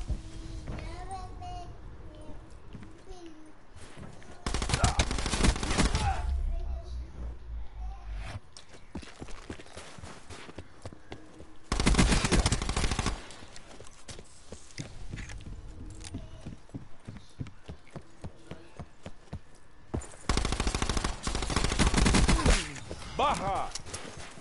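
Heavy gunfire sounds in three loud, sustained volleys of rapid shots, separated by quieter stretches with scattered pops and voices.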